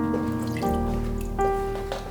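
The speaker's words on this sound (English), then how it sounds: "I'm just going to add a little bit of water" A small splash of water trickles and drips onto spice ingredients in a kitchen, a brief close pouring sound over a steady background hum, with no talking.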